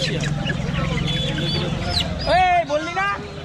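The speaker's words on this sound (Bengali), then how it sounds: "এটা কি পাতিহাঁস কত করে পিস" Several domestic ducks quack in short nasal bursts near the end, over a busy background of people talking and bustle at a village market.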